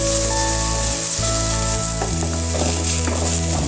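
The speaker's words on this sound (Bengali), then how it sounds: "এই তেলেই আমি দিয়ে দেবো অল্প একটু পেঁয়াজ কুচি। পেঁয়াজগুলো ভালো করে ভেজে নেব।" Chopped onion sizzles steadily in hot oil for a mustard pabda fish curry, a loud continuous frying hiss with faint stirring and a steady tonal hum behind it.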